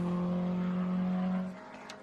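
A Brabham BT8 race car drives on a road course, its engine a steady, droning tone for about a second and a half before fading quickly as it moves off into the distance.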